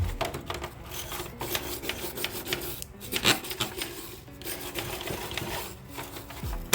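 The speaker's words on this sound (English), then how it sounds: "So I'm loosening the dirt that the pressure washer may not be able to get to." A brush scrubs loose dirt off the coils of a GenPal split air conditioner unit, producing rapid, rhythmic rasping strokes up close with short pauses between bursts.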